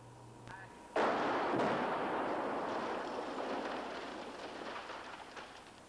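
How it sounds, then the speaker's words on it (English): A special-effects stunt explosion goes off close to a parked car with a sudden heavy blast, followed by a long, rushing roar of debris and fire that slowly fades. "An explosion like this one sends adrenaline rushing even through the veins of seasoned veterans like Aaron Norris and his crew who have done"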